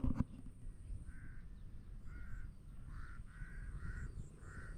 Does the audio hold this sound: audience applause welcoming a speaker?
no